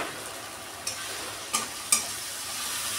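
Ginger, green chilli and garlic paste fries in a pan with a steady sizzle, broken by three short scraping stirs, close and alone with no voices.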